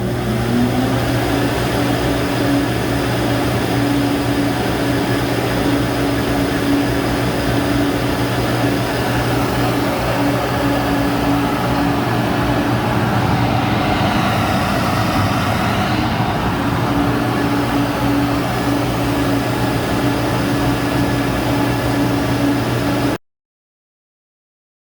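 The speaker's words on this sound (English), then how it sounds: "having the same amount of vacuum draw being a simulation of the motor, and compare how much airflow we get through the stock box" An airflow test bench pulls air through the stock intake box of a 3.6L Chevrolet Colorado or GMC Canyon, making a loud, steady whooshing roar with a faint hum. It runs unbroken for about 23 seconds, with no voices, then cuts off abruptly.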